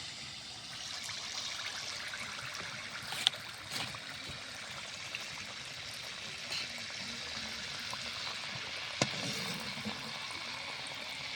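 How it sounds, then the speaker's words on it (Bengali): Flour tipped into hot oil in a wok for frying jaggery treats, a steady broad hiss and sizzle with faint trickling, holding evenly at moderate level with a couple of brief clicks. "এখন আমি আটা দিয়ে দেবো"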